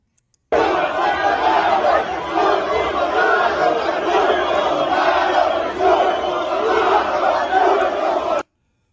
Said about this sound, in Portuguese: olha só o pessoal gritando o nome do Bolsonaro aqui.